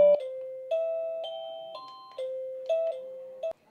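A multi-note electronic doorbell chime from a wireless video doorbell's chime unit plays a short melodic sequence of bright tones, close and clear, with no voices.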